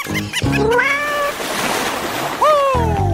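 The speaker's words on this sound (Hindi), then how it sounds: "ये अच्छा ही है, हम ये प्यारी बिल्ली को ले सकते हैं।" A cat gives two drawn-out, rising and falling meows, loud and close, amid a noisy kitchen-challenge scene with voices talking at the start and end.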